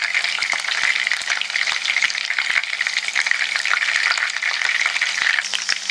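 Chicken 65 pieces coated in cornflour and egg deep-fry in hot oil, giving a loud, steady crackling sizzle with sharp pops and occasional stirring, with no voices.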